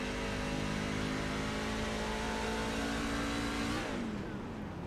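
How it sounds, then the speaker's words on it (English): A race truck engine in the iRacing game drones steadily at speed on Iowa Speedway, then cuts off near the end, its pitch dropping sharply as the truck coasts through a corner to save fuel. "You hear him shutting that truck off in the corner, trying to save as much fuel as he can."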